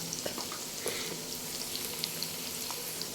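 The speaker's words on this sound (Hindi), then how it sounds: "तो प्याज को हम अच्छे से फ्राई कर लें थोड़ी देर के लिए" Onions frying in ghee with spices for aloo keema, a steady close sizzle with soft crackles and occasional pops throughout, no talking.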